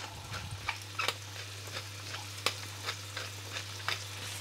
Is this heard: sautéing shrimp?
yes